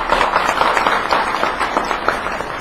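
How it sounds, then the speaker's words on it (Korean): Steady, dense clapping from an audience fills the room at a live lecture forum in Gangnam, welcoming a KAIST professor and software policy institute director to the stage. The applause is even and sustained, with no speech over it. "뜨거운 박수로 보내주시기 바랍니다"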